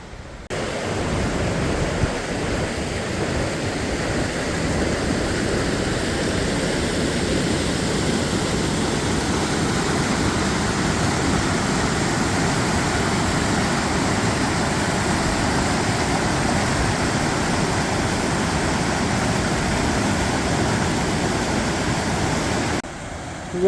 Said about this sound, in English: Let's go take a closer look at that white water.